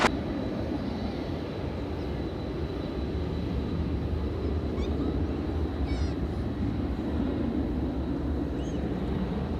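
A UPS MD-11 aircraft at DFW Airport produces a steady, broad engine rumble and roar that holds throughout, distant but loud, with a few faint chirps on top.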